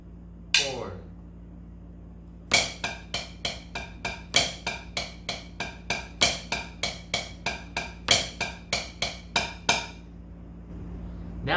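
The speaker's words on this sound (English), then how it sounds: "we're gonna play one measure using the paradiddle-diddle starting with right hand" Drum strokes playing a paradiddle-diddle rudiment starting with the right hand, mixing accented and softer hits in quick succession, after a short count-in click; clear and close.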